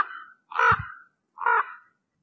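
Two harsh, hoarse caws from a raven, close and clear, separated by a brief silence.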